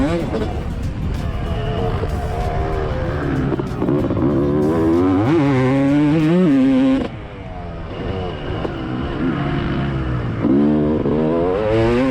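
A 1995 Honda CR250 two-stroke motocross bike rides on a race track, its engine revving up and down in continuous, wavering pitches close by, with speech-like bursts mixed in over the engine noise.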